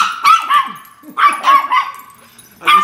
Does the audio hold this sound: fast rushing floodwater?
no